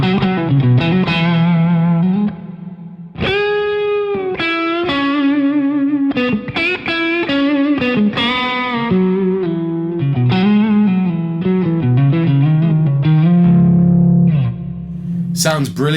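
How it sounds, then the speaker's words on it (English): Electric guitar through an overdrive pedal on a Headrush pedalboard, distorted tone playing sustained chords and single notes, loud and close, with brief pauses between phrases. "So now that I've put the overdrive in front, I'm getting a little bit more sort of nice tones"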